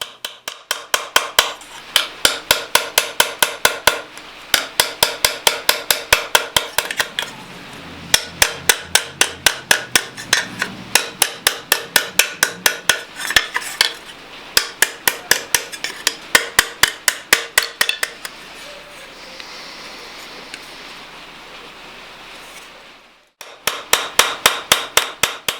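Hammer blows ring out on an anvil while a Betty lamp pan is forged, working from the base of the folds to the edge. Steady rapid bursts of sharp metallic strikes come in runs, with a brief pause near the end before striking resumes.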